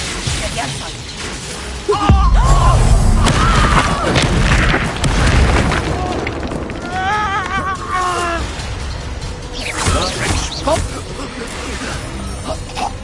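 Hogwarts Legacy combat spells burst in a rapid string of booms, whooshes and crackling impacts, loud and close. A voice calls out spell names over them and other voices speak in the background.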